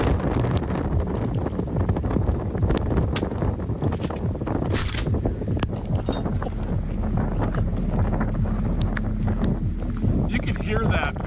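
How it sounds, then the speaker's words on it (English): A powerful tornado roaring in a storm-chasing video game, a dense, continuous rushing wind noise with gusty fluctuations, loud and steady throughout, with a person talking faintly underneath. "This is the strongest tornado of the year."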